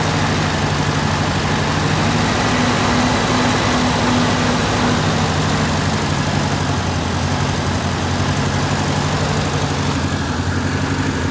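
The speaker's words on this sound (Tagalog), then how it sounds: "Ayan siya, napakapangit ng idle niya." Car engine idling roughly and unsteadily, with its vacuum lines needing correction; a loud, continuous low rumble with a steady hum runs without pause for over eleven seconds, up close.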